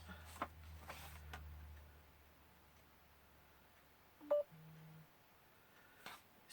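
A mobile phone gives a few short electronic beeps and tones while being switched to silent mode, faint and close by in a quiet room with paper-crafting sounds.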